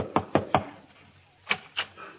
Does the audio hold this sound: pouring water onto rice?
no